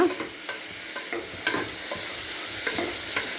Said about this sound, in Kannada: ಪ್ಯಾಪ್ಸಿಕನ್ನು ಇದಕ್ಕೆ ಒಗ್ಗರಣೆಗೆ ಹಾಕಿದ್ದೀನಿ